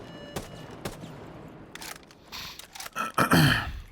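Scattered gunshots crack in short bursts and single reports during recoil-control practice in Rainbow Six Siege, with a denser, louder volley near the end.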